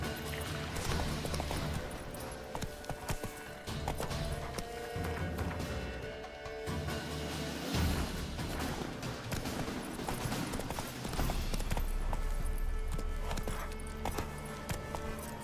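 Horse Roach galloping in The Witcher 3, with continuous rhythmic hoofbeats mixed with dense game sound effects and ambience throughout.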